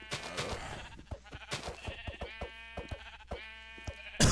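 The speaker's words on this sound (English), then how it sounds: "I gotta take out these sheep" Minecraft sheep bleat repeatedly, several wavering cries close together over steady game sounds with soft clicking hits.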